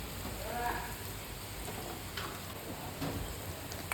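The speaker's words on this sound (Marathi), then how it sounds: "या कांद्याचा कलर चेंज होतोपर्यंत आपल्याला हे छान तेलात परतायचं आहे" Onions sautéing in oil with turmeric for batata bhaji, a potato sabzi: a soft, steady sizzle with occasional faint ticks and stirring clicks, close but low in level.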